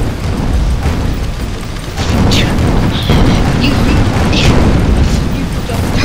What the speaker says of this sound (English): I'm gonna shoot with my new gun.